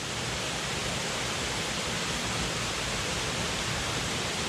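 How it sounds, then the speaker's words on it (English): A waterfall in a wooded park in County Sligo, Ireland, sends a steady, loud rush of broadband water noise that stays constant throughout, with no voices over it. "Oh, there's another waterfall."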